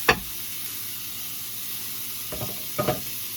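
Pan-seared steaks cooking in a hot pan give a faint steady sizzle beneath a hissy background, broken by a sharp clatter at the start and a couple of brief scraping knocks near the end.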